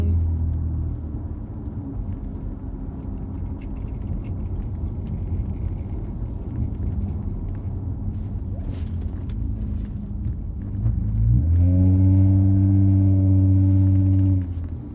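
A 2019 Toyota Avalon fitted with a 9-Drive throttle controller drives with a steady low engine rumble from inside the cabin, then accelerates hard near the end as the engine note rises and swells louder.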